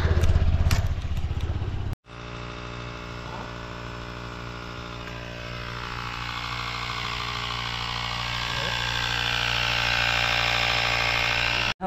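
Motorbike being readied on a foggy mountain road in East Sikkim, a steady close engine idle after a short noisy start, holding a constant drone that rises slightly toward the end.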